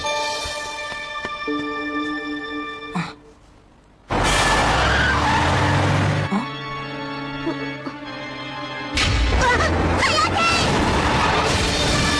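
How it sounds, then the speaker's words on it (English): Car tires squealing and skidding in an accident, loud bursts of screeching with a brief near-silent gap between them, mixed with music and other noise, no talk. "Apparently Hayate's been in a car accident."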